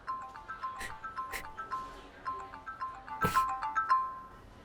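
An incoming call on a mobile phone plays a repeating electronic ringtone melody of bright, short notes in a steady rhythm, moderately loud, in a quiet indoor drama scene.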